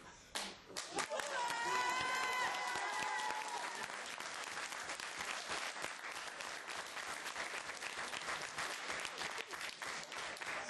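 An audience at a student election debate breaks into applause, dense and sustained clapping filling the room for several seconds, with a few voices heard briefly at the start.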